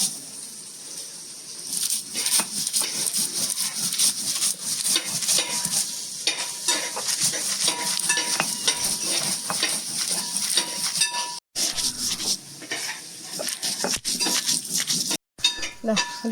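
Spices ground by hand on a traditional stone ammikkal for country chicken varattiyath: repeated close, rough scraping strokes of stone on stone, with a couple of short pauses.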